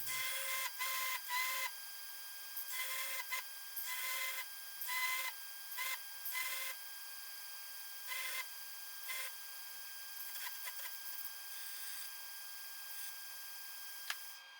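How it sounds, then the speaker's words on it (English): A grinder sharpens chisel tips to a fine point against the work rest, heard as repeated short bursts of high, hissing grinding that start and stop in uneven strokes over a faint steady motor hum. "I can work against the actual work rest and grind in the tips of these to a nice fine point"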